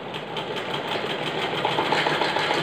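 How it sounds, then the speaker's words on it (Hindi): Sewing machine running steadily while stitching a salwar hem, a fast continuous whirring and rapid needle chatter at close range with no talking. "अभी हम जहाँ पे सलवार की ऊपर से सिलाई लगाना स्टार्ट कर लेंगे।"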